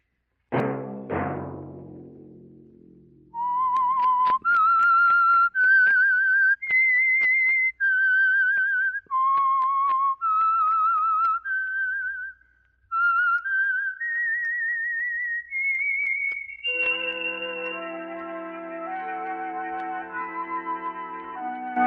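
A lone whistler carries the theme melody of the 1951 radio drama The Whistler in clear sustained notes, some gliding, before an orchestral chord swells in at the end.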